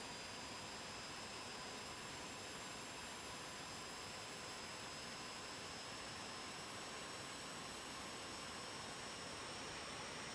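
Aermacchi MB-339 jet engine in Microsoft Flight Simulator 2020, a steady loud whine and roar of rising thrust with high-pitched turbine tones, continuous and unbroken throughout.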